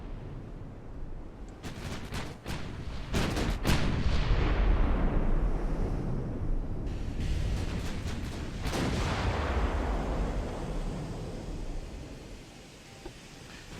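A dreadnought's warship guns fire at modern cruisers in the naval battle game Ultimate Admiral: Dreadnoughts, several heavy booming salvos in quick succession, each trailing into long rolling rumble, loud and without speech.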